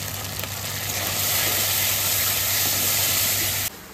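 Turmeric, salt and Kashmiri chili powder fry in hot oil, giving a loud, steady, close hiss of sizzling that holds evenly and then cuts off abruptly near the end.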